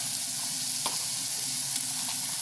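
Minced onion sizzles in a hot pan with spices for meatball subs, a steady close frying hiss with a couple of brief stirring clicks and no talking.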